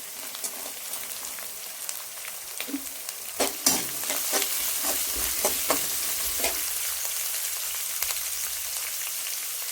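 Chopped beans and carrots sautéing in a pan for egg fried rice, a continuous close sizzle broken by spoon stirring and scraping clatter, with no talk.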